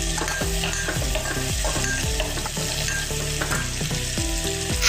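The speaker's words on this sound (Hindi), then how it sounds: "थोड़ा मिक्स होने के बाद इसमें हम हरी मिर्च डालेंगे।" Finely chopped green chillies hit a pan with onions and keep frying, a steady loud sizzle broken by the repeated scrape and clatter of a spoon stirring, with no talking.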